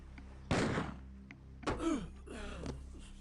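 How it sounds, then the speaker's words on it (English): A short, sharp impact from the Doom gunshot sound effect hits hard, followed by two softer thuds and faint vocal sounds. "Was that literally the gunshot noise from Doom?"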